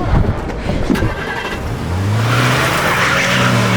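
A car pulls away quickly with a rising engine roar that grows louder and holds steady, loud and close, after a brief scuffle of noise, with no talk over it.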